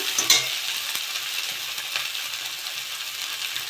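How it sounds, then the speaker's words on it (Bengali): Taro stolons (kochur loti) fry in a pan, a steady close sizzle with a few scraping stirs near the start, and no voices. "এটা একটু ভেজে নিয়েছি।"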